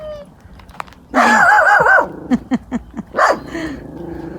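A Jack Russell terrier barks at a swan at a riverside campsite on the Murray River near Mildura, a loud burst of growly barking followed by several sharp short yips, close to the recorder.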